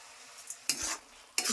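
Taro frying in a home kitchen pan as sugar is added, with quick scraping stirs and bursts of sizzle in two or three short strokes, close and without voices.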